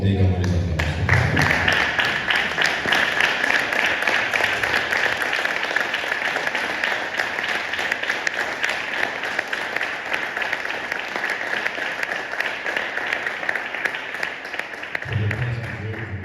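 A church congregation at a Sunday service claps and cheers in sustained loud applause lasting about fifteen seconds, a dense roar of hands and voices that fades out near the end.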